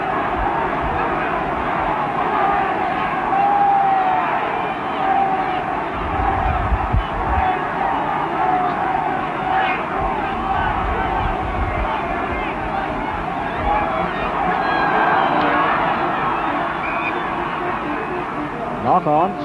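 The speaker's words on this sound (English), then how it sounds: "Crowd sensing an upset now, giving the Springboks plenty of encouragement" Stadium crowd at a 1965 New Zealand versus South Africa rugby Test in Christchurch, a steady roar and hubbub cheering on the Springboks, filling the whole stretch with a few louder swells.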